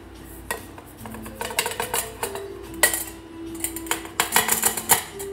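Sugar added to creamed cream cheese in a mixing bowl for cookie dough: a busy run of clinks and scrapes of utensil against bowl, close and fairly loud, with sharp metallic taps clustering near the end.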